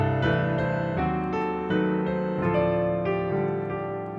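Solo piano plays a song, voiced with drop-in diminished passing chords: rich sustained chords struck every half second or so in a slow, gentle rhythm, close and clear with no voices.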